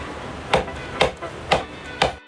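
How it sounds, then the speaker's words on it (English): A hammer taps a bearing into a 3D-printed part, giving four sharp, evenly spaced knocks about half a second apart, fairly close and moderately loud. "got him to use a hammer and put some super glue"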